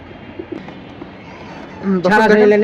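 Deep Blue Jabra pigeons in a fancier's collection give a loud, close burst of cooing near the end, following quieter shuffling sounds.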